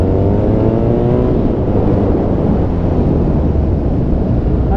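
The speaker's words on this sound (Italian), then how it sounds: "Poi sentite il motore." A BMW R nineT Scrambler motorcycle engine runs loud and close while riding, with a rising rev early on and then a sustained roar mixed with heavy wind rush.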